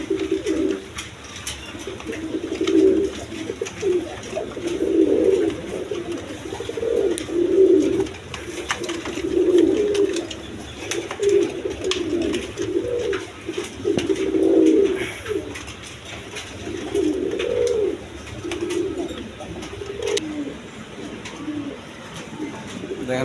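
High-flying Giribaz pigeons coo in a repeated, rhythmic series of soft, low calls, close by against a faint background hiss with occasional light rustles.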